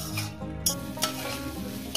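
Grated ginger sautés in a hot pan for a Bengali khesari greens chorchori, giving steady sizzling and frying with a few sharp scraping stirs of a spatula against the pan.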